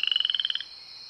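A frog croaks inside the video game Garry's Mod, a fast, even train of about fifteen bright, clear pulses that stops abruptly, heard alone without talk.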